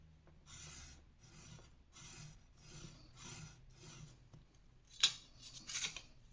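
Paper being creased along a fold for a scrapbook cracker, five soft rhythmic rubbing strokes close up, followed by a couple of sharper crinkly scrapes.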